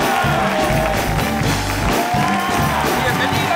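TV studio audience cheering and clapping as guests Carla Peniche and Cody Saintgnue are welcomed, a loud, continuous roar with shouts and whoops over thumping background music, and a host's voice mixed in.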